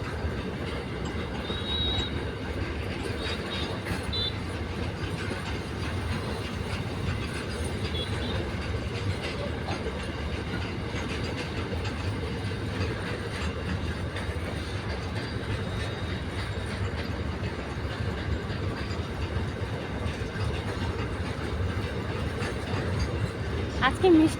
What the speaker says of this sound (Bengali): মাল ট্রেন যাচ্ছে আর এদিকে আমাদের খেয়ালই নেই।